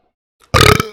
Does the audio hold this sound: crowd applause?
no